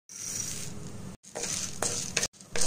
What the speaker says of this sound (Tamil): கடலைப்பருப்பை போட்டு நல்லா பொன்னிறமா வறுத்து எடுத்துக்கோங்க